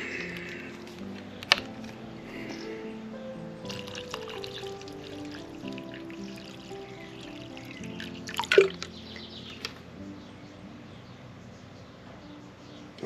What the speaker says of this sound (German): Und gießen da jetzt Wasser bei.